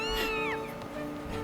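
A cartoonish cat meows in the video game The Legend of Zelda: Skyward Sword, a single drawn-out falling meow over a steady, droning game soundtrack.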